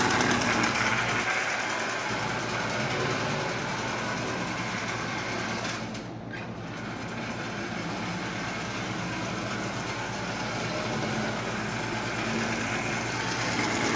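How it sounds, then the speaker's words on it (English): A Marx 490 toy train locomotive's double reduction motor runs continuously with a steady high whirring buzz, close and even, dipping slightly midway without stopping. "Alright, so the motor's running, no problem."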